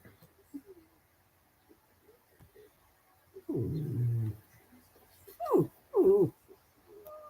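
A dog in a quiet indoor room makes low grumbling noises followed by two short, higher whining yelps, fairly close and alone with no talk over them.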